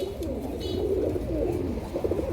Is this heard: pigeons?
yes